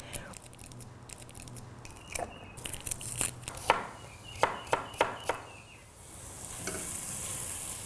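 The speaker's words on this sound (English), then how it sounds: "So we're going to peel some shallots" A knife makes sharp, close taps on a board as shallots are prepared for cooking, with a short run of evenly spaced cuts. A faint kitchen sizzle plays in the background.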